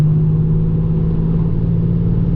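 A 1987 Buick Regal Turbo fitted with a Precision 6262 turbo, driven gently at light load, gives a steady, even low engine drone and road rumble from inside the cabin, with no revving or talking.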